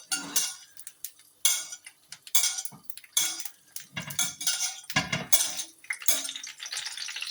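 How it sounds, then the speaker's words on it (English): Wild garlic flower fritters frying gently in a pan while fat is spooned over them, heard as repeated metallic clinks and scrapes of a spoon against the pan with soft sizzling between, close and fairly quiet. "Right, so gently fry these. We'll splash a bit of fat on them as well."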